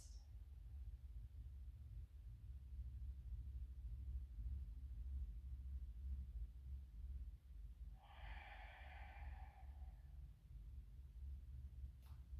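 Quiet breathing during yoga twists, marked by one soft, breathy exhale lasting about two seconds, set against a low, steady room hum.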